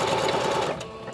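A sewing machine stitches through lace and fabric for a collage tag, its steady close whirring motor running for about a second before easing off near the end.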